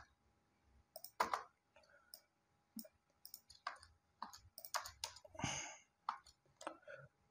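Computer keys are pressed while editing a document in a word processor, sounding as scattered, quiet clicks and taps close by with irregular pauses, a few in quick clusters, in a hushed room with no talking.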